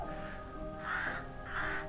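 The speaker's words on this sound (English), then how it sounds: "So it's playing the sounds of the birds now" Crow-like caws from a record spun on a turntable in the puzzle game Escape Simulator, two harsh bursts repeating over a steady low background hum.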